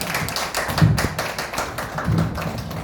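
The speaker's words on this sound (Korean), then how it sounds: "여러분 힘찬 박수 드리겠습니다." An audience at a congratulatory event claps in dense, continuous applause, many hands patting fast and fairly close, with no talk over it.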